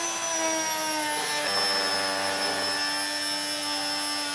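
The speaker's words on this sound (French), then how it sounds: "Et là, finalement, le fait de mixer, on va tout simplement lier la sauce avec l'ail noir." Blender whirs steadily, mixing a sauce with black garlic in a kitchen, a continuous close motor hum with a high whine that stays even throughout.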